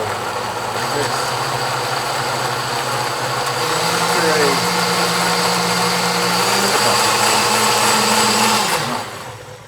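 A countertop blender whirs steadily as it purees roasted tomatoes, garlic and basil for soup, its motor pitch climbing partway through as it speeds up, loud and close, before cutting off at the end.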